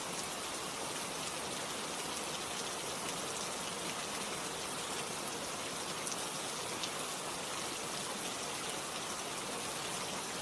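Steady rain falls continuously on a surface, a dense, even hiss of drops with no pauses or voices throughout.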